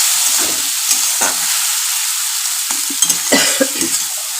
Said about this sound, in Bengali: কালো জিরা মেথি দেওয়ার পরে একটু এটা দিলাম, একটু নারকেল দিলাম, দিয়ে নাড়লাম।